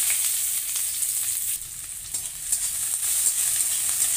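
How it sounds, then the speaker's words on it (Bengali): Garlic and onion sizzle in hot oil, a steady bright frying hiss that fills the whole stretch with small crackling pops and faint stirring, close and fairly loud, with no voices. "তেল গরম হয়ে গেছে, রসুনটা দিয়ে দেবো। এবারে পেঁয়াজটা দিয়ে দেবো।"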